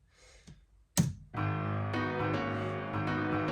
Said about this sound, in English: So what you're hearing is two pianos playing exactly the same thing.